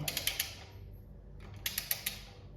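A torque wrench clicks and ratchets while tightening oil pan bolts on an LS1 V8, working from the middle outward: two quick clusters of sharp, close ticks separated by a short pause.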